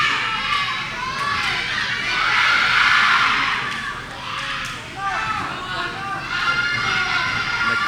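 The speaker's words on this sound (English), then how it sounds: "The crowd is losing it." A wrestling crowd at an independent tag-team title main event roars and shouts continuously, loud and dense throughout, swelling to a peak midway before dipping briefly and surging again.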